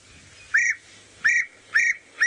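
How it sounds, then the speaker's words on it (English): Recorded call of a European bee-eater played on a sunset safari drive: four clear, loud whistled notes at an even rhythm, like a referee's whistle, over a faint low background hum. "we have the European bee eaters, I thought maybe I'd quickly play the call for you"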